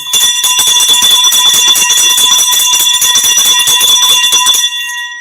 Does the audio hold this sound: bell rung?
yes